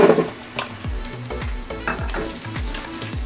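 Ginger pieces fry in hot oil in a pan with a steady close sizzle, broken by several sharp clanks and scrapes of a utensil against the metal.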